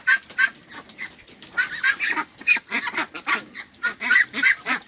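A large flock of grown Peking ducks calls from close by, overlapping nasal honks and quacks rising and falling in steady bursts with no pauses and no talking.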